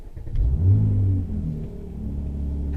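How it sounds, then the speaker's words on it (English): Mercedes-Benz AMG engine starting in Sport Plus mode, firing up with a loud low rumble and a throttle blip that swells, then settles into a steady, deep idle close by. "So if we switch down into Sport Plus and then foot on the brake"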